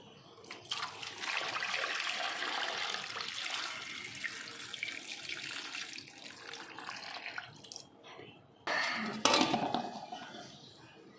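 Cassava roots being rinsed under a running tap in a kitchen sink, a steady rushing wash of water with rubbing and splashing, pausing briefly before a louder burst of splashing near the end.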